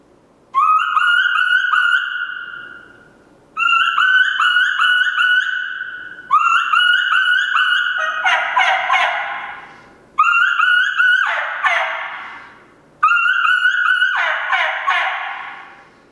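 Five repeated high, whistling yelps from a turkey mouth call imitating a lost young turkey's kee-kee run, each a rising then trailing series of plaintive notes, separated by short pauses.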